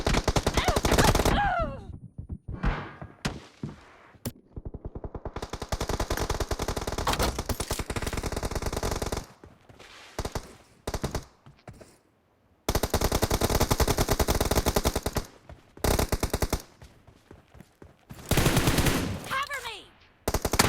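M4 rifle fire in the BGMI mobile battle game during a team deathmatch, with long rapid automatic bursts separated by short pauses, loud and close, while players occasionally talk.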